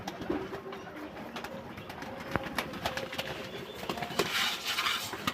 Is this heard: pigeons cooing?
yes